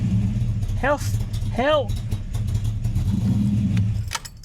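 A project car's engine revs twice in quick succession, each rev rising and falling in pitch, over a steady idle, with someone speaking briefly near the end.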